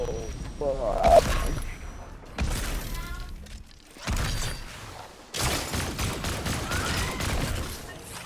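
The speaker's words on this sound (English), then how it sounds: "I'm going to shoot all over the place." Pistol fire in a video game, several bursts of sharp cracks scattered across the stretch, separated by brief lulls, with mechanical clatter and a voice talking in between.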